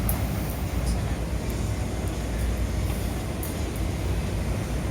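Steady, loud low rumble of a MRT train on the Dayuan line, heard continuously from inside the carriage as the train travels, with no clear speech over it.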